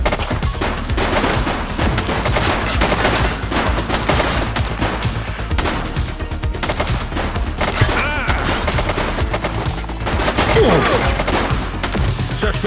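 Dense, continuous automatic gunfire from a woman shooting in The Precinct video game, rapid loud bursts packed together without pause, with faint shouting mixed in.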